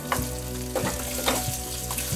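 Peeled, diced boiled potato pieces fry in a pan for a Maharashtrian birdyanchi usal, giving a steady close sizzle with a few scraping stirs and no voices.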